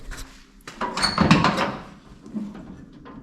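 A door shuts on a Chevrolet C10 squarebody pickup cab during rocker and cab corner repair, heard as one close, fairly loud thump with some rattle, followed by quieter handling noises.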